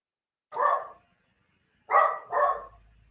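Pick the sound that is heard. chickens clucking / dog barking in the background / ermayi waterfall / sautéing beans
dog barking in the background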